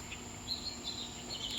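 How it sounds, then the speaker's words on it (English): A bird calls outdoors around a house in summer, a few short, high chirps coming and going at moderate distance over a steady insect drone, with no talking. "I hear a bird right now."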